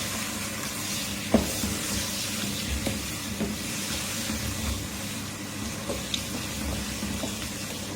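Ginger garlic paste frying in a pan for nihari while being stirred in, a steady close sizzle with scattered scraping clicks of the spoon, no voices.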